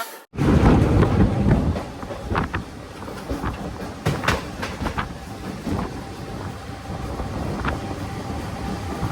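A MEMU train on the Markapuram to Tenali line rolls along the rails entering a station with a low rumble and rhythmic clickety-clack, loud at first and then steady throughout, with no talking.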